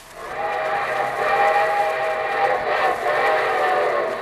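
A drawn-out train whistle sounds over the rolling clatter of a moving train, opening a 1948 Railroad Hour radio broadcast, steady and fairly loud with no talk.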